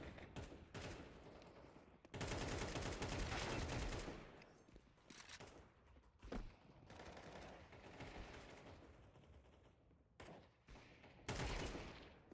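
Counter-Strike 2 gunfire crackles in fast automatic bursts and sustained volleys, loud and dense, broken by short pauses and single sharper shots.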